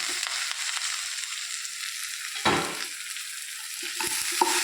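Brinjal pieces tipped into fried onions and stirred in a pan, giving a steady close sizzle with scraping stir strokes and a louder burst of frying as the vegetables hit the hot oil.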